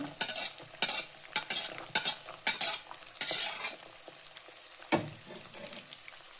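Chopped beans stir-fried in a pan for rice-rava masala uppittu: repeated scraping stirring strokes over a crackling fry, close and fairly loud, with no voices.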